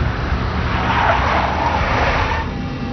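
In the Max Payne video game, a big black Mercedes drives past, a loud, dense rush of engine and road noise that swells and then eases over a few seconds, with no voices.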